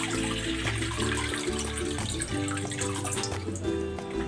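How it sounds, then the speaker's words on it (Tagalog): Water is poured into a pan (kawali) for tilapia soup in a home kitchen, giving a steady, close-up gushing stream that runs throughout over a tonal background of music. "Maglalagay ako ng tubig dito sa kawali."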